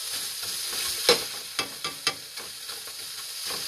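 Scallops frying in a pan, a steady close sizzle with a few sharp clicks and taps from a utensil or pan, no voices.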